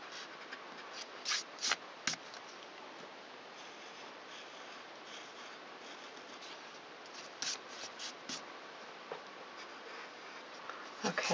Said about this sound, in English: Then we can just erase those little guidelines.